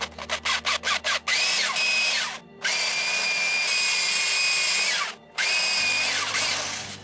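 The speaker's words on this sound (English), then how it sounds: "Now I'm going to drill directly in the center of this, which is the grip" An electric drill whines in several short bursts, then runs in long steady stretches with brief pauses, loud and close, boring into the center of a wooden cane grip.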